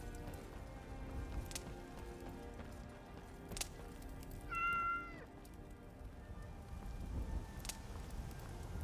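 A cat meows once, clear and brief, over a faint steady background of pattering rain and occasional clicks in a Skyrim game scene.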